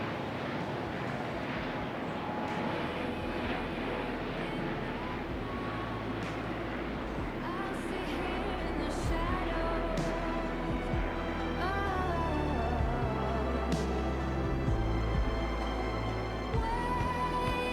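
An ATR 72-600 turboprop airliner lands at the Paris Air Show, its engine and propeller roar steady and moderately distant beneath a French commentator's voice, with crowd and wind noise throughout.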